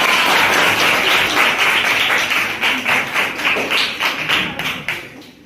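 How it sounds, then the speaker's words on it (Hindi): Audience clapping in a classroom quiz game modeled on a TV quiz show, marking a correct answer: a loud, dense burst of hand claps that gradually thins into more distinct, separated claps as it tapers off. "ऑडियंस का ताली बज गया, मतलब बिल्कुल सही जवाब।"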